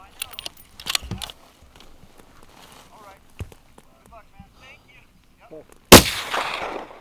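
At an NRL Hunter shooting match, a rifle fires one loud, sharp shot near the end, after several seconds of quiet talk and gear handling, with the report ringing out and decaying.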